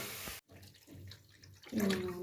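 Water poured into a kadai on the stove for cooking mung dal, a close, steady pour that breaks off briefly and then starts again more strongly, with no talking.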